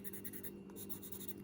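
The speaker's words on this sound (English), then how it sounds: "a pencil, and it works as you would expect a pencil to" A pencil scratches steadily across paper during an art-supply unboxing, a close, continuous dry scraping with faint stroke-by-stroke rhythm and no talking.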